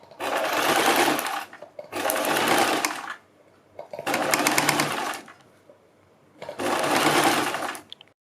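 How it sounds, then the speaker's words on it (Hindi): Sewing machine stitching sleeve pieces onto a paper backing, running in four steady bursts of roughly a second and a half each, separated by short pauses, loud and close with no talking. "इसके ऊपर हमें अपनी स्लीव्स को सिलना है।"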